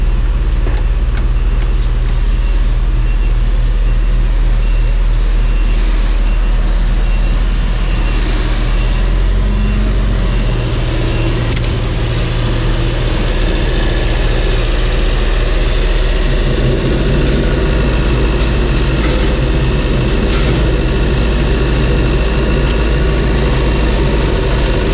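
A farm beet chopper machine runs loudly and continuously on a sunny day, a heavy engine drone with a deep low rumble that shifts in pitch as it works through a full bucket.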